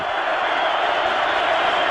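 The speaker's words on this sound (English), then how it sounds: "Hard to do with this crowd roaring" Stadium crowd at a Tennessee vs Alabama college football game in 2022, a dense, continuous roar of thousands of voices, loud and steady with no breaks.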